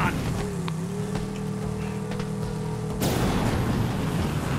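A car in the video game Borderlands 3 drives with a steady engine drone that shifts into a louder, rougher roar partway through, heard up close.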